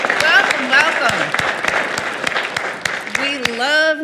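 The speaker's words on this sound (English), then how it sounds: "We'd love to give you a little round of applause." Audience applause welcoming newcomers at a spiritual talk livestream, quick clapping with a cheerful whoop, then a speaking voice rises over the fading claps.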